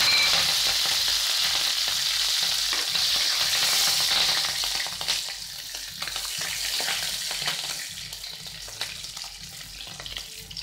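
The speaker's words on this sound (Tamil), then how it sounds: "நல்லா பொரியட்டும்." Oil sizzles and crackles loudly as green chillies fry, with occasional stirring scrapes. The hiss eases a little over time but keeps going steadily.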